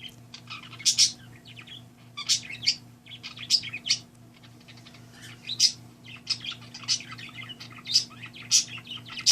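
A parakeet singing indoors, with repeated bright chirps and short warbling bursts coming every second or so, close and clear over a steady low electrical hum.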